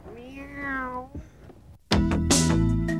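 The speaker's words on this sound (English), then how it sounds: "Meow." A cat meows several times in drawn-out, rising-and-falling cries, fairly close and clear, followed by a sudden louder burst of sound.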